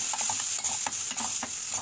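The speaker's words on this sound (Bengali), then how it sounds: "মশলাটাকে ভালো করে কষিয়ে" Spices with coriander and cumin powder being stir-fried in a pan for a pointed gourd curry: steady sizzling under repeated scraping and clinking of a spatula, close and continuous, no voices.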